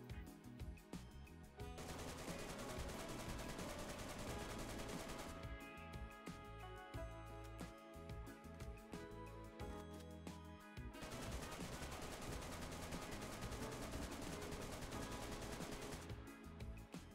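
Sustained automatic gunfire and blasts from the survival video game DayZ, loud and dense throughout, with a brief lull near the middle and no talking.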